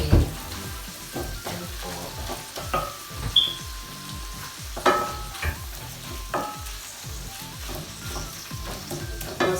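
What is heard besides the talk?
sautéing vegetables in a pan with chicken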